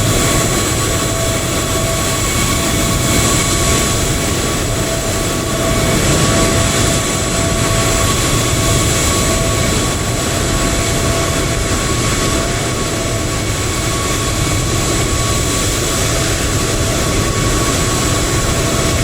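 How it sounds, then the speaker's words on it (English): Airliner jet engines, a Qatar Airways and an EasyJet jet, run up nearby at Leipzig airport in Microsoft Flight Simulator 2020, a loud, constant roar with a steady high whine lasting throughout. "There is a Qatar Airways and there's an EasyJet starting just behind us."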